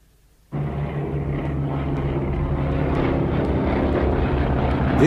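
A World War II B-24 Liberator four-engine bomber roars in after a brief quiet start, its propeller engines droning loud, close and steady with a deep rumble that swells slightly as it flies past.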